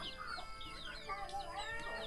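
Chickens cluck and chatter around a rural Thai village, several hens calling in short overlapping bursts, fairly close, with a low murmur of background sound.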